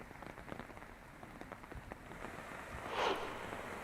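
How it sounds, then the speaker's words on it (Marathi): Heavy monsoon rain in Gondia district, a dense steady patter of drops hitting surfaces with scattered sharper splashes and a brief louder gush near the end, fairly faint and without voices. "आज पुन्हा गोंदिया जिल्ह्यामध्ये सकाळपासून मुसळधार पाऊस"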